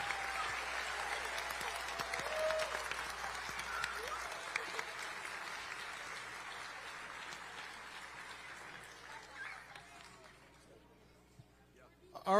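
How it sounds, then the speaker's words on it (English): An audience at a science awards ceremony claps for honorable mention winners, giving steady sustained applause from a seated crowd that gradually thins and fades out near the end. "Please give a round of applause for the honorable mention winners."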